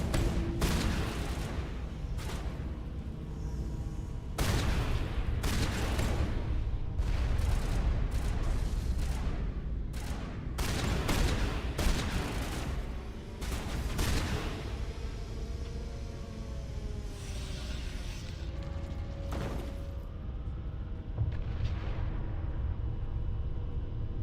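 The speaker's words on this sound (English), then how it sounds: "Shotgun time." Shotgun blasts in the video game Mass Effect, a rapid string of loud, heavy booms at irregular intervals over constant combat rumble, closely spaced and punchy.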